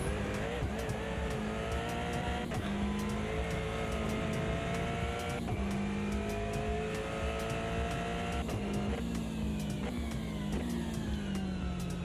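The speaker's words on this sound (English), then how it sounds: "Love the sound of the Aston from on board." An Aston Martin race car at Bathurst in a racing video game, heard from on board: a loud, continuous engine howl that rises steadily through the revs and drops briefly at each gear shift.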